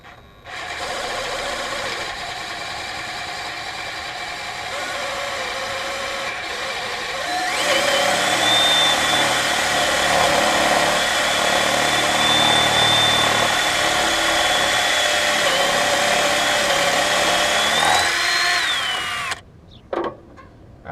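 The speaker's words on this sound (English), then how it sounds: "This time you can see me doing some machining." A machine tool runs continuously while parts are machined, a loud steady whine that rises in pitch partway through, then cuts off near the end.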